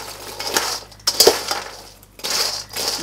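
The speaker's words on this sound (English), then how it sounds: "I'm going to stir it around a little more." A spoon clinks and scrapes against a bowl while stirring a honey mustard pretzel mixture, with a few sharp metallic taps and steady rustling in between.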